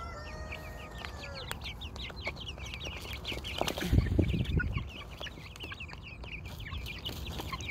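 Chickens cluck and peep continuously at moderate level, a young rooster with brown on its neck among gathered chicks outdoors, with a brief louder burst of fluttering or scuffling midway.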